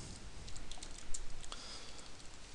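Typing on a computer keyboard while entering a title in Illustrator, heard as a quiet, fairly steady patter of light key clicks with no talking over it.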